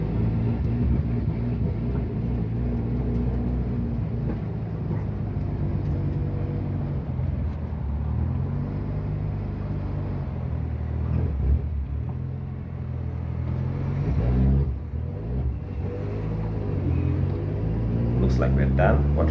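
A rally car's engine rumbles steadily through a systems-check test drive, a continuous low drone with slight rises in revs, heard from close by and loud throughout.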